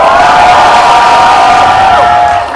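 Fans scream and cheer loudly as the director and actors enter for a stage greeting at a Lotte Cinema screening of The Moon, a dense high-pitched crowd roar holding steady throughout.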